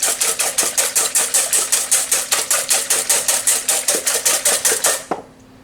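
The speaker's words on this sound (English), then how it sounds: "I'm going to whisk my eggs. Whisk these eggs just to get them incorporated with the white." Eggs whisked briskly in a bowl for a quiche: about two dozen rapid, evenly spaced metallic clicks and scrapes, close and loud, stopping abruptly near the end.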